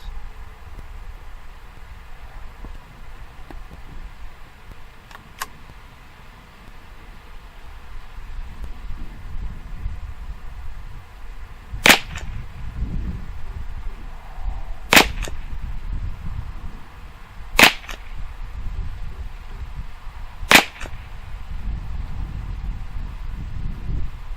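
Five sharp cracks from a Mossberg 715T .22 LR rifle firing CCI Standard Velocity rounds, spaced a few seconds apart over steady wind noise, with a lone fainter shot earlier.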